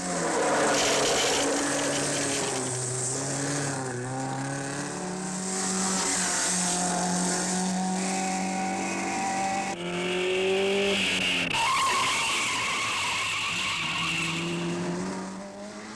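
A rally car climbs an Alpine pass during the Coupe des Alpes, its engine note rising and falling through gear changes with tire skids and squeals, loud and continuous throughout.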